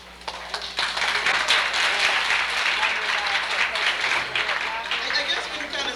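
Applause from the audience at an anniversary celebration, a sustained rush of many hands clapping that begins abruptly and holds steadily, with crowd voices mixed underneath.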